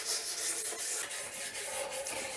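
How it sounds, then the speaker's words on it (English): Light hand sanding of lacquered furniture with 320-grit sandpaper, a soft close rhythmic rubbing with back-and-forth strokes, alone and fairly quiet. "I am sanding very lightly with 320 just to make sure that the surface is very smooth"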